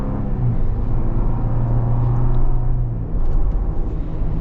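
A Ford Bronco King of the Hammers Edition with the 2.7 engine drives along, its engine a steady low rumble and whir heard from inside the cabin, rising slightly in places.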